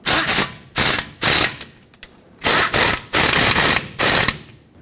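Loud, close ratchet clicks in several quick bursts with short pauses as the brake caliper mounting bolts are snugged on a 2011-2016 Ford F-350's front brakes.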